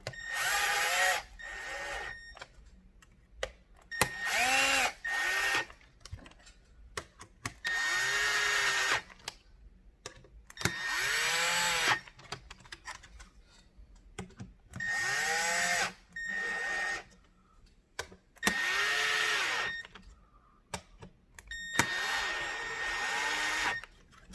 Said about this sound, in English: So now tighten the screws in.